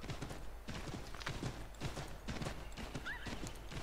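Rhythmic clip-clop of horse hooves trotting at a steady pace in Assassin's Creed III, fairly quiet, with a brief snort or whinny among the footfalls.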